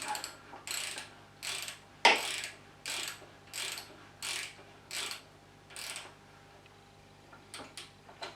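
A ratchet driver fitted with a 7/16 socket undoes the fork bolts on a Triumph Bonneville T140, giving about a dozen close, evenly spaced bursts of clicking with one sharp metallic knock early on.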